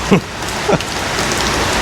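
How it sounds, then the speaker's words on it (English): Steady rain hisses in a constant wash of noise, with a couple of brief louder spatters near the start. "the rain just decided to go harder"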